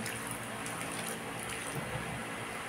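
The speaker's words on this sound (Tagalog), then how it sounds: "Maglagay ako ng konting tubig." A little water is poured into a cooking pot of squash and tilapia, a soft, steady trickle and splash that is faint and continuous.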